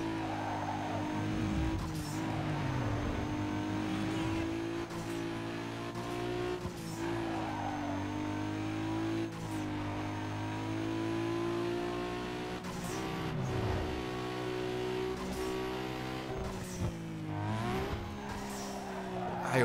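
Race car engine in the video game Need for Speed Underground 2, a Nissan Skyline with a stock engine, droning loudly and continuously with rising and falling revs, repeated tire squeals and skids.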